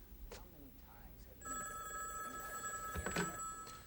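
A new fiber optic phone system rings with a steady electronic ringing tone that starts after a brief pause and continues to the end, with some voices faintly underneath.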